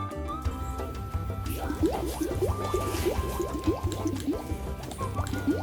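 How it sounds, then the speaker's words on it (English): Hydraulic disc brake lever on an e-bike pumped repeatedly while brake oil bubbles and gurgles in a bleed cup, giving soft wet drips and squishy liquid pops in a steady close rhythm, with background music. "You need to operate the lever several times until there are no bubbles."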